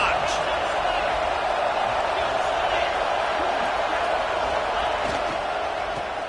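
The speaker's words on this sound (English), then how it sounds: "this crowd is turning it up a notch" Steady roar of a stadium crowd in the College Football 26 video game, a dense, continuous wash of cheering that holds at full level throughout with no break.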